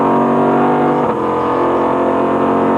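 Onboard engine of a GTS-class Corvette race car at the 2003 Petit Le Mans, a loud, steady high-revving drone with strong harmonic whine, briefly dipping in pitch around a gear change before holding high again, continuous and close.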